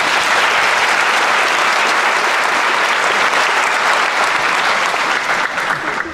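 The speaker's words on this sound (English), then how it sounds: "Please give him a round of applause." Steady, dense applause from an audience at a school pinning ceremony, loud and sustained for the full stretch as an announced coordinator returns to the stage, slightly thinning toward the end.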